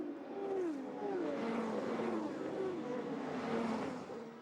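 Peugeot race cars roaring down the Mulsanne Straight at Le Mans, engine notes rising and falling as several cars pass one after another, heard from a middle distance at a steady, loud level.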